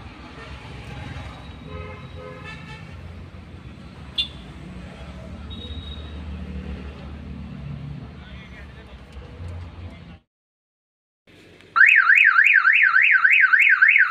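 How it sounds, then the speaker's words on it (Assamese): A modified Maruti Eeco top model's central locking and alarm sound: a loud, rapidly warbling siren kicks in near the end after a brief silence, preceded by talk over a low engine hum and faint beeps. "এইটো সব গাড়ীৰ একফালৰ পৰা অটোমেটিক সব লকটো সাইলেন্টটো বাজি আছে"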